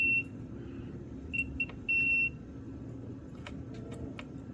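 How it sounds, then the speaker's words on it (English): A multimeter continuity beeper sounds during electrical testing on a socket in a fifteen-year-old museum display, giving a short beep, a quick double chirp and then a longer steady tone, clear and close over a low background hum, with a few faint clicks. "Is the beeper still working here?"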